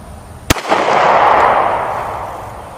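One sharp, close crack from a Taurus G2C pistol fired at an outdoor range, followed by a broad rolling echo that slowly fades, loud and alone without talk.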